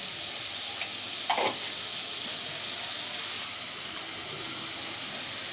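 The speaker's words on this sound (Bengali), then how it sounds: "আবারও নাড়তে থাকব, ভালোভাবে মিশিয়ে নিব।" Dried ribbonfish bhuna stirred in a pan, a steady close sizzle with soft spoon scrapes and one brief louder scrape early on, no talking.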